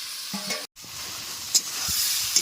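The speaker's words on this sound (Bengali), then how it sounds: "মশলাটা এখন কষা চলছে" Spice masala being fried and stirred in a pan for a chicken and bottle gourd curry, a steady close sizzle with a few scraping stir sounds and one brief dropout.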